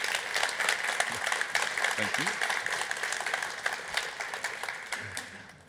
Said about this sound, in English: Give him a great applause.